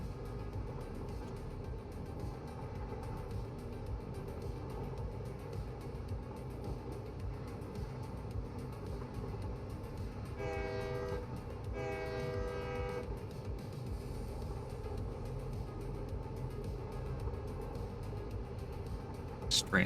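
A train in the factory-building game Satisfactory rumbles past under a steady low mechanical drone, with two short tonal horn blasts sounding midway through.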